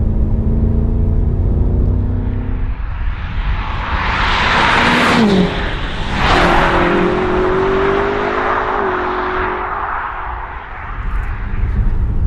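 BMW M5 Competition F90 with its 4.4-litre twin-turbo V8 accelerating hard, a loud continuous engine roar climbing through the revs with brief dips at gear changes, heard from inside the car.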